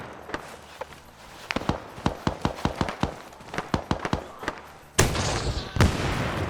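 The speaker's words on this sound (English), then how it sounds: "that rocket went through the hut" A rocket blasts into a hut in a wartime video game, a hard burst arriving after a run of sharp, rapid gunfire cracks and leaving a rough roaring wash behind.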